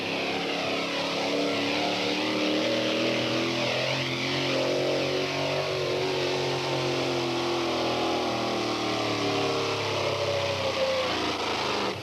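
A Chevy two-wheel-drive pulling truck, Rich's Toy, powers down a 300-foot dirt track at a 1989 NTPA tractor pull in Hildreth, Nebraska, its engine a loud, sustained roar with rising and falling pitch throughout.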